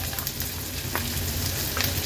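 Finely chopped medium onion and green chillies frying in hot oil as a tempering for a Maharashtrian thali, a steady dense sizzle with faint stirring, close and without talk.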